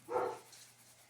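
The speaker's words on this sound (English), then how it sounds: "I'm sorry if you can hear my dogs barking." A dog gives one short bark, a bit distant, then a faint tail of yelping noise trails off.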